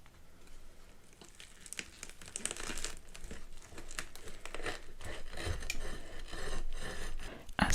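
A knife cuts through a ham salad and coleslaw sandwich on a plate, soft close crinkling and scraping crunches of bread and filling, quiet and continuous with a few sharper crackles.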